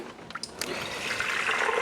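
Liquid pork fat from a Weber Smokey Mountain cook of four pork butts poured into a fat separator, a steady trickling, splashing stream that grows a little fuller toward the end, close and moderately quiet.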